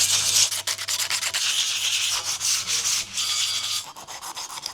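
A sander grinds over the surface of a boat rudder in continuous, close rasping strokes with small dips in intensity and no voices.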